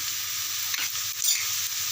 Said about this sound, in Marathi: फोडणीला जिरा टाक, लसूण मिरची टाकलेलं आहे फोडणीला, तेही लाल झाले बघा